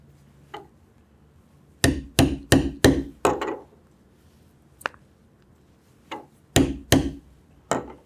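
Hole punch struck through 9–10 ounce chestnut leather skirting: a short series of sharp, close mallet blows, some in quick pairs, with brief pauses between strikes and no talking.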